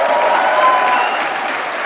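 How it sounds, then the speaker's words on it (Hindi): Audience applause at the 69th National Film Awards ceremony as director R. Madhavan receives the Golden Lotus for Rocketry: The Nambi Effect, a dense, even wash of clapping from a large hall, sustained and steady throughout. "जोरदार तालियां"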